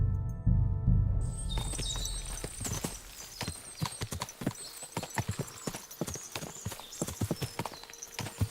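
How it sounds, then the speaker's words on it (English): Many horses trot in Kingdom Come Deliverance 2, a busy overlapping patter of hoofbeats close by, with a snort or whinny and faint birdsong over a brief low rumble at the start. "What a lot of horses!"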